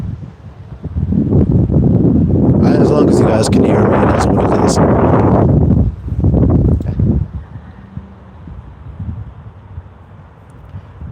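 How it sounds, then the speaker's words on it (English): Strong wind buffets the microphone on an outdoor walk, loud gusting roar coming in bursts and then easing to a softer rush, with someone talking through it. "It is pretty windy."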